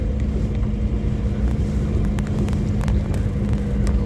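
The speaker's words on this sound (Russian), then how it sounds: "ВАЗ-2102 80-го года выпуска." A 1980 VAZ-2102 car idles or drives with a steady low engine rumble and a constant hum, close and continuous throughout, with a few faint clicks on top.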